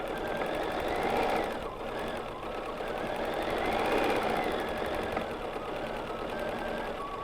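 A sewing machine fitted with a BSR2 stitch regulator stitches steadily through quilting fabric, a soft continuous mechanical hum at low level with no pauses.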